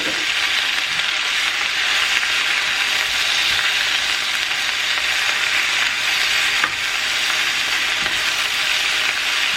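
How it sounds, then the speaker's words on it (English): Garlic and spinach sauté in a hot pan with a steady, bright sizzle that hisses continuously for nearly ten seconds, with a few faint clicks and scrapes underneath. "I'm just gonna saute this garlic and spinach for a few minutes, just kind of wilt it all."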